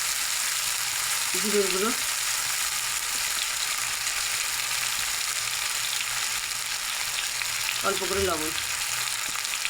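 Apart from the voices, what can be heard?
spices with tomato and turmeric sautéing in a pan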